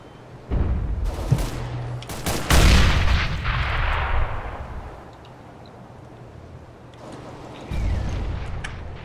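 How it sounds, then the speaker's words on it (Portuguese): Gunfire and a flashbang grenade burst in a Counter-Strike: Global Offensive competitive match, with several loud sharp shots and a broad blast near the start, then quieter game ambience before another burst of fire. "Flashbang!"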